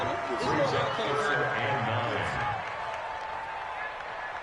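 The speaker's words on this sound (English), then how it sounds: "The crowd getting into it as we come up on a big third down." Crowd noise swells under a commentator's voice in a PS4 American football game ahead of a big third down, loud and dense at first, then easing to a steadier murmur.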